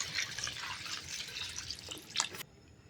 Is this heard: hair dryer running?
no